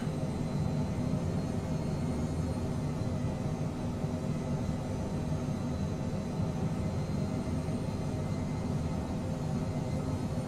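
Phenom 100 light jet in Microsoft Flight Simulator 2020 on landing approach with gear down and flaps set, a steady low engine and airflow roar running continuously and evenly, with no talk.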